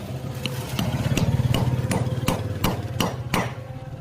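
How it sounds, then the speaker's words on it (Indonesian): A hammer taps a part into a peanut grinder, about ten sharp knocks in a quick, steady rhythm over a continuous low engine-like hum, close and moderately loud. "ini diketok ya, pakai palu diketok"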